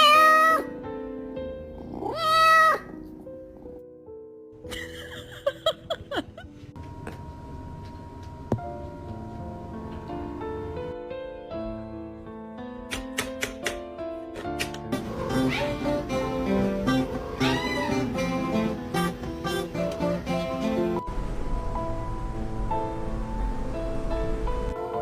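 A pet cat meows repeatedly at the start, clear and close, before music and mixed sound effects take over for the rest of the stretch.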